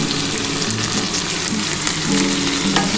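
Spices, including Kashmiri chilli powder, sizzle loudly in a pan while being stirred for a cauliflower and potato curry, a dense, constant frying hiss up close with scraping stir sounds.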